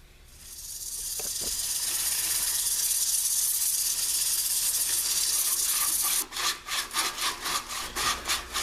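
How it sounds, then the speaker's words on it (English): Sandpaper held against a spinning wooden bowl on a lathe gives a steady, close, airy hiss. Near the end it breaks into a run of rhythmic rubbing strokes. "I'm going to run over to the lathe and hit it with some sandpaper"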